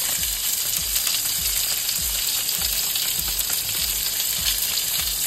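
Ravioli parcels sizzle steadily in a hot pan, a continuous close frying crackle with bright hiss and occasional pops, no voices.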